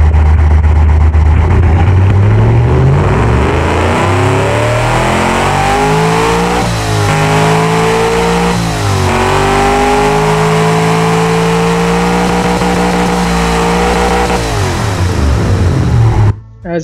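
A car engine in the Automation game is started and revved for about sixteen seconds, its pitch rising, falling and climbing again in steady sweeps, loud and alone before cutting off abruptly.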